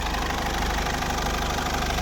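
A warm Mercedes Vito W638 2.2 CDI common-rail diesel idles steadily, with an even, slightly knocking low rumble close to the engine bay, no voices.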